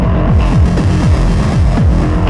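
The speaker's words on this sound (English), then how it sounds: "Bit crusher." Bit crusher effect in CUBE by Lunacy Audio, a loud gritty, distorted synth pulse with repeating downward sweeps in a steady throbbing rhythm, heard alone.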